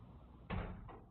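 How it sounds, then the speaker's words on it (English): A door shuts with a single dull thump midway through, followed by a softer knock, heard at moderate distance against quiet room noise with no talking. "Same door shutting."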